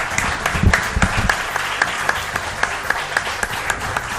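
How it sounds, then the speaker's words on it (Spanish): Applause from a studio audience on a Spanish talk show, a steady wash of many hands with distinct individual claps popping out rhythmically, fairly close and moderately loud throughout. "Un aplauso os pido para ellos."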